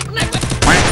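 Rapid burst of gunfire in a video game, several sharp, loud shots in quick succession within about a second, close and dense, with no talk over it.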